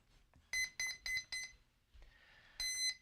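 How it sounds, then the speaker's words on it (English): The inactivity alarm of an FPV drone sounds up close as a quick series of four shrill, tonal beeps. After a short pause and a softer electronic whine, a longer beep follows. "Inactivity alarm."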